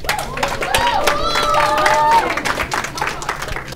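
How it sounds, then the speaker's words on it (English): An audience at a youth day event in St. Paul gives a round of applause, a dense wash of clapping with some cheering that swells midway and then tapers off. "make a round of applause for Kelly and Liban"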